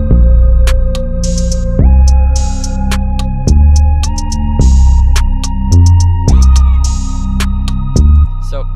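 Synth chords from the Coldex Beats Nexus expansion preset Quite Quiet, played dry apart from increased reverb: loud sustained chords changing roughly every one to two seconds, with bright percussive ticks over the top and no talking.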